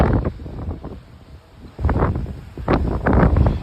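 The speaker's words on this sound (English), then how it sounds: "it is a windy day here in Fort Lauderdale" Gusty wind buffets the microphone outdoors on a windy day in Fort Lauderdale, rising in strong rumbling bursts after a calmer stretch, loud and close.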